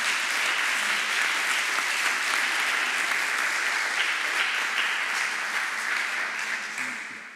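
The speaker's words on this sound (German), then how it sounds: "Es wäre mal ein Applaus wert" Sustained applause from an audience at a talk on nutrition across life stages, a steady wash of many hands clapping that holds evenly throughout before tapering off at the very end.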